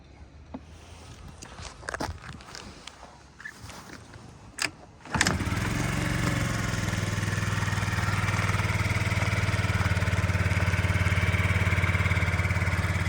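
A Yamaha BWS 49 four-stroke fuel-injected scooter starts after a few footsteps and handling noises, then runs with a steady, quiet idle close to the microphone.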